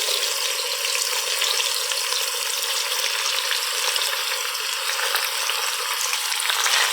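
Soaked rice going into a pot of frying matar pulao brings a steady, loud, close hiss of sizzling oil that holds evenly throughout without pause.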